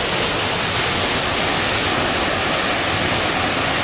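Loud, continuous roar of Tagupak Falls, a dense wash of crashing water close by with no voices.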